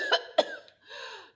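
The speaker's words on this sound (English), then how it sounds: "and coughed loudly." A loud cough sounds alone, two sharp bursts followed by a rougher, drawn-out throaty exhale, close and clear, with no talk over it.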